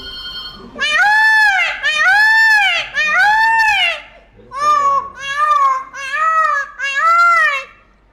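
A voice imitates a peacock's call, loud nasal wailing cries in two groups, three long rising calls followed by four shorter ones, with no other sound.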